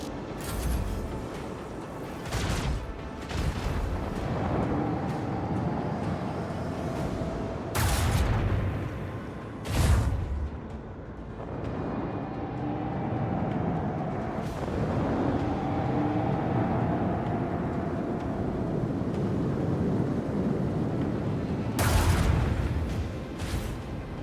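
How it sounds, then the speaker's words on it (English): Heavy macro cannons fire during a space battle in Warhammer 40k Rogue Trader, sounding as deep booming blasts and repeated sharp concussive hits over a dense, steady roar of battle noise throughout. "I want to hear the macro cannons roar!"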